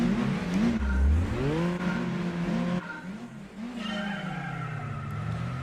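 A Renault Aventine with 174 horsepower driven in Gran Turismo 4: the engine note rises and falls through sweeping revs and gear changes, loud and steady throughout, with a brief tire squeal near the start.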